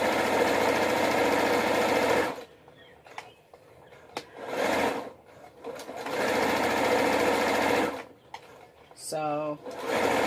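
Sewing machine stitching bulk hair onto a track runs loud and steady in two long bursts, stopping between them, with low speech, small handling noises and a short high tone near the end.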